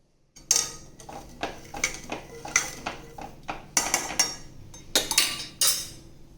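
A spoon clinks and scrapes against a pot while kheer is stirred with milk and sugar, giving a series of close, sharp metallic taps at an uneven rhythm with no talking.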